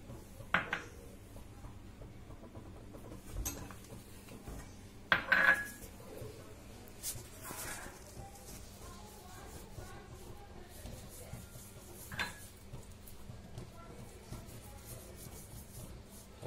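A spoon scrapes and clinks in a bowl while maida flour and oil are stirred together, quiet irregular scraping with a few sharper knocks against the bowl.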